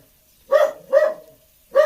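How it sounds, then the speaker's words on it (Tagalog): A dog barks three times at close range, two quick barks followed by a pause and a third, with near silence between them. "maingay yung aso namin dahil nasa likod lang"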